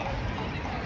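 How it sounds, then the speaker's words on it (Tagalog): Horse hooves clip-clop on a street in Copenhagen, a brief dense patter of hoofbeats under loud, steady outdoor background noise, with a faint voice murmuring. "Ilang kabayo dire"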